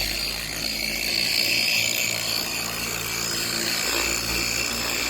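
A power buffing pad spins steadily against a car's painted body panel to strip off pinstripes, a continuous close whirring drone with a high-pitched whine that holds at an even level throughout, with no talking.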